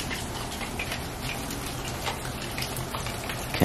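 Rain mixed with light snow falling outdoors in Texas, a close, steady patter of drops with scattered ticks on surfaces, continuous and without voices.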